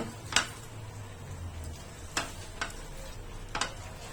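Boiled peas and bottle gourd being stirred in a pan for ghugni, with a few sharp scrapes and clinks of the spoon against the pan over a low, steady simmering hiss, fairly close.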